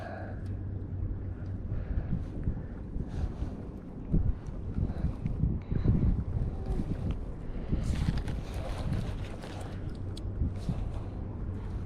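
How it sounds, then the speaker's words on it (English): Wind gusts across the water by Guntersville Dam, buffeting the microphone with a heavy low rumble and roar that swells and fades, and there is faint talk in the background. "It's that wind."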